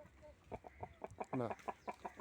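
A Giriraja country chicken clucks in a quick run of short, evenly spaced notes, close by and fairly quiet, with one longer squawk partway through.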